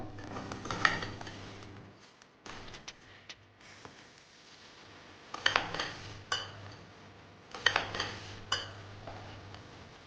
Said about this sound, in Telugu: ఇదంతా బాగా కలుపుకొని వేరే సర్వింగ్ బౌల్లోకి మార్చుకుందాం